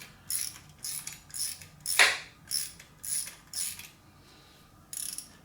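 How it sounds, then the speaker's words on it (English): A wrench ratchets an exhaust manifold stud down into an RB26DETT cylinder head, making about eight evenly spaced metallic clicking strokes, close and clear, with one sharper ping midway and no talk. "Put your wrench kind of to the back, and then you can just go ahead and tighten this stud all the way in until it seats down into the head."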